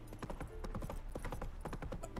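A horse gallops in a video game with quick, steady clip-clop hoofbeats, close and fairly soft, continuing through the whole short stretch with no talk.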